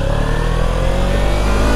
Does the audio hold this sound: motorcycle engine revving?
yes